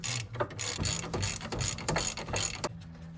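Hand ratchet clicking in quick bursts while undoing brake caliper bolts on a 1995 Toyota Celica GT4, several close rapid ratcheting runs separated by short pauses.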